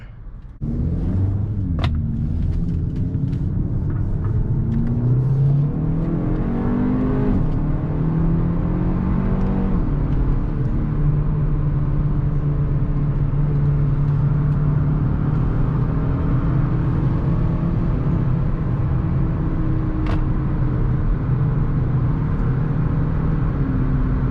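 Steady low engine drone and tyre rumble from inside a 2021 Hyundai Elantra N Line on the road, with a rising pitch as it accelerates early on, then a constant cruising hum.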